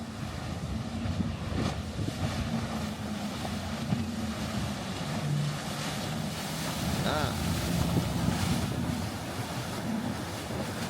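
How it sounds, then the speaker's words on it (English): A boat passing through Boynton Beach Inlet in Florida, its steady engine rumble carried on wind and surf noise throughout, fairly close and continuous with slight swells in loudness. "This boat right here is one of my favorites."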